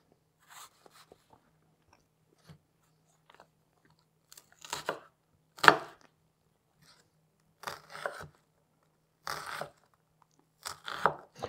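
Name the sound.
knife chopping onion into small pieces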